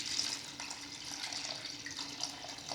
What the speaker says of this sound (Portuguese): Nós colocamos tipo 1 litro de água até agora. Mas vai ter que colocar mais um pouco